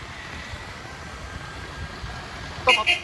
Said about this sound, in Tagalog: Grabe yung mga busina talaga